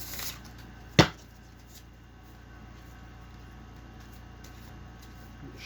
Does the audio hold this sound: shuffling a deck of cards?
yes